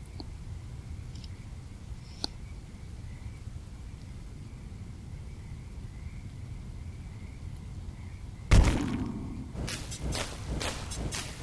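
Bombs detonate on an enemy wave in the tower-defense game Gemcraft: after a long quiet stretch, one sudden sharp blast hits, followed by a quick cluster of smaller crackling bursts.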